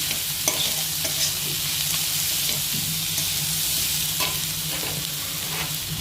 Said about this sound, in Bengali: এর মধ্যে দিয়ে দিচ্ছে মা 10-12টা মতো ভাঙা কাজু, 10-12টা মতো কিশমিশ, আর দিয়ে দিয়েছে 10-12টা মতো আমন্ড। এবার এটাও ভালো করে একটু ভেজে নেবে।